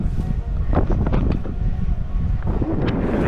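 Strong wind on a hilltop fort trek buffets the microphone in a steady low roar, with gusts swelling and easing throughout and no talking.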